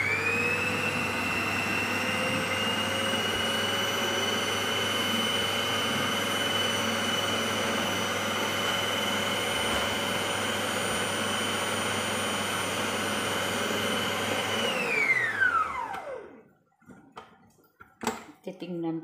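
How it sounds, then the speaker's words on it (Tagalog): A blender whirs loudly and steadily as it mixes cauliflower mash with butter and cheddar cheese, a high constant motor whine that winds down near the end, followed by a few light knocks. "Tapos, i-blend ulit."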